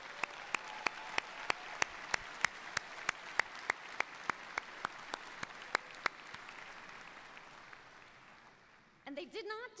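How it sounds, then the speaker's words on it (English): Graduates receive applause at a university commencement ceremony; the clapping is faint and distant, with sharp isolated claps standing out in a steady rhythm, then it fades and a voice begins speaking. "give a big round of applause to our graduates"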